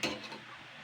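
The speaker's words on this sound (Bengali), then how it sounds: "তো এইভাবে একটু হালকা নাড়াচাড়া করে নেবো শাকটা" Punarnava greens are stirred in a hot pan, a brief scraping turn of the spoon over a soft, steady sizzle, close up and without any talking.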